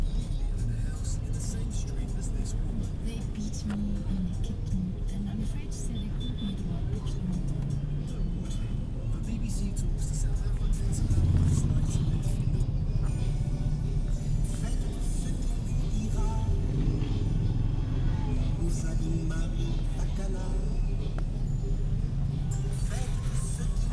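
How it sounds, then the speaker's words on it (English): Street traffic in Togo, cars stopping and starting in a jam, with a steady low engine rumble and idling throughout, one vehicle swelling louder near the middle; people talk over it. "Here's another common aspect of the traffic here, a lot of stoppages."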